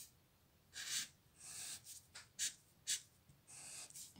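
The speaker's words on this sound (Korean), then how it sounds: "겨울을 한번 써볼게요." Marker strokes on paper as Korean hand lettering is written, a series of short, soft, close scratchy swipes separated by pauses, quiet and with no talking.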